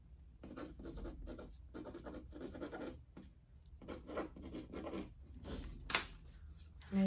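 Scratchy strokes of a pen moving across paper, in short bursts with brief pauses, close and fairly quiet.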